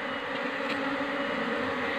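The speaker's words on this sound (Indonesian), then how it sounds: "Nah jadi ini dia, ada lebah drone-nya ini." Drone honey bees give off a steady, continuous buzzing drone while their colony is being moved to a new hive, a dense close hum with no pauses and no voices.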